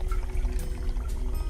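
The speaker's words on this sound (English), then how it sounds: "if we pour some water into this vessel" Water poured into a vessel, a short continuous gurgling splash heard up close and on its own.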